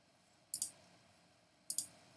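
Two crisp computer mouse clicks, each a quick double snap of press and release, about a second apart, close and clear over a faint background hum.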